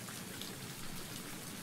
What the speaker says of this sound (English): It's a heavy downpour.